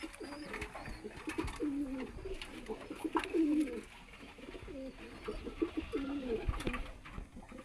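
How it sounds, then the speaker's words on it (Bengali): Male pigeon cooing in a loft, a steady run of soft rolling coos repeating one after another at close range, with faint rustling and other bird sounds in the background. "পাকটা দেখবেন এটি একটি নর কবুতর"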